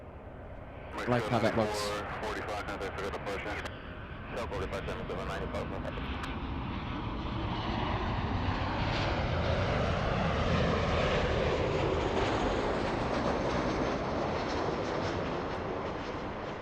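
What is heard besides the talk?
airplane taking off at LAX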